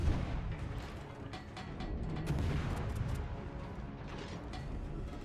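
Naval gunfire from an enemy ship in a video game, with 8-inch guns nearby, a dense rumbling barrage of distant booms and cracks rolling continuously at moderate loudness with no speech.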